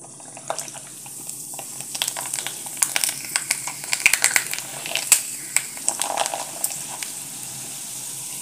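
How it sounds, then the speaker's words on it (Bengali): Lentil papad frying one by one in plenty of well-heated oil in a wok, giving a steady crackling sizzle with sharp pops and bursts that swell through the middle, with no talking. "এখন একে একে পাঁপড়গুলোকে ভেজে নিতে হবে।"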